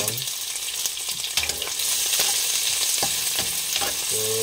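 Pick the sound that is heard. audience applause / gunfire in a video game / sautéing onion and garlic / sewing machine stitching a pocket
sautéing onion and garlic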